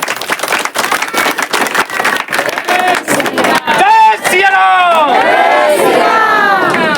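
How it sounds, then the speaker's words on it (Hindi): Loud crowd noise from an audience at a talk about a guru's book, with shouting, cheering and scattered clapping building into a dense, sustained roar alongside voices. "हमारे गुरु जी के लिए जोरदार ताली होनी चाहिए।"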